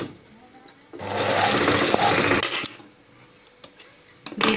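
A sewing machine stitches folded cloth for a dhoti dress in one loud, close burst of rapid whirring, framed by quieter handling clicks and taps before and after.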